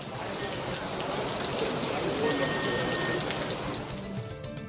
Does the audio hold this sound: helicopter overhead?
no